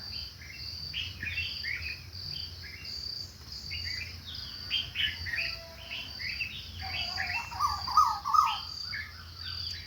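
Small birds chirp in short, repeated bursts at moderate distance over a low steady background hum, with occasional louder cheeps.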